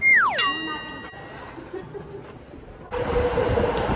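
An underground train at Disneyland: a loud descending whistle-like screech opens, then a low rumble and rising roar of the train running through the tunnel, close by, with brief chuckling.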